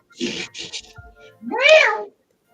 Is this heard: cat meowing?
yes